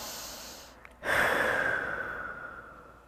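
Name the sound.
deep breath in and out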